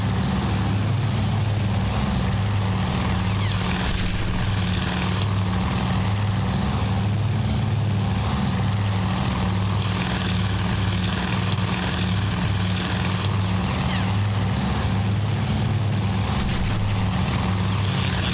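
Propeller warplanes over Midway in the naval strategy game Task Force Admiral, a constant loud droning engine roar with a steady low hum, occasional faint crackles and no talking.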